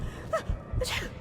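In the video game Dishonored, a character gives a short, breathy sneeze that is preceded by a quick inhale, quiet and isolated, with no talking.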